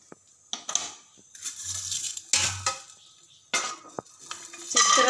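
Dry ginger being roasted and stirred in a pan, with separate bursts of scraping and rattling as the pieces are stirred, metallic clinks, and short quiet pauses between strokes.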